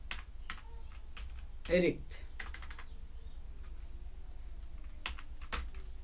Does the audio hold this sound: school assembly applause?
no